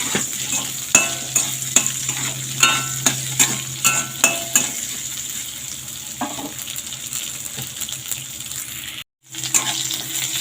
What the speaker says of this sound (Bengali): আলু আর পটলটাকে খুব ভালোভাবে ভেজে নেবো।